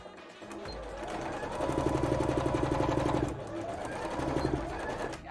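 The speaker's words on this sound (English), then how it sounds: "Right, I need to start sewing." Sewing machine stitching layers of fabric for a cosplay hoop skirt, two close, steady bursts of rapid mechanical whirring and needle chatter, with a short pause between them.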